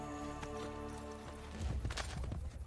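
Hooves clop in a steady rhythm as a horse trots in the video game Assassin's Creed: Brotherhood, starting soft and becoming louder and closer, over a low droning musical tone.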